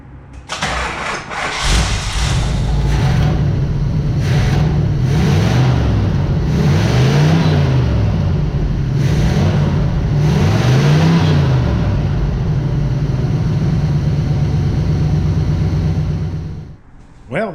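A 1977 Pontiac Trans Am, heavy and partly taken apart, cranks and starts, then its engine revs up and down in repeated swells before idling and cutting off near the end.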